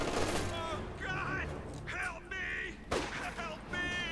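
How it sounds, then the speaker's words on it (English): MG34 machine guns firing in the real-time strategy game Company of Heroes 2, bursts of gunfire in a battle mix under a commentator's steady talk, with distant booms and whistling effects. "So 2 MG34s here, forming a very nasty position."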